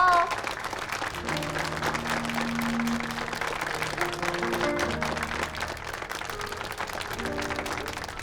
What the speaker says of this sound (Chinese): 掌声越热烈，祝福越多哦